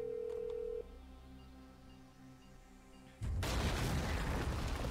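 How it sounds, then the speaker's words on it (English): A remote charge set off by phone in GTA V detonates with a sudden loud, broadband blast, following a short phone tone and quiet game ambience, the explosion roaring on until the end. "Use the phone to trigger explosive charge"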